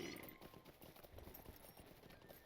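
Horse hooves clip-clopping in the online video game Lord of the Rings Online, a quiet, steady run of soft hoofbeats in a faint game soundscape with no talk.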